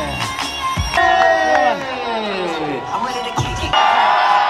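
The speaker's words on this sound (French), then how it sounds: "on applaudit Nico s'il vous plaît" A crowd at a skateboarding contest cheers and whoops, with shouts rising over steady crowd noise and a voice booming over a loudspeaker.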